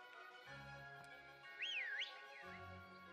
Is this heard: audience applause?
no